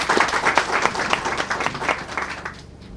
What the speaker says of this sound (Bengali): আমরা সবাই একসাথে আমরা হাততালি দিই